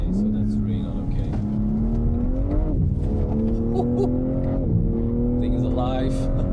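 A BMW M3 Competition M xDrive Touring with a 530-horsepower engine revs and accelerates hard, the loud engine tone climbing steadily through several gear changes, up close and sustained throughout.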